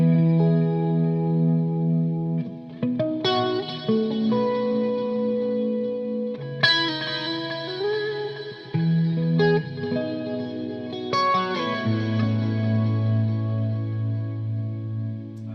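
Electric guitar played through a Volante delay pedal panned left, sustained chords and single notes ringing out with echoing repeats and a wavering chorus-like shimmer, changing phrases every few seconds.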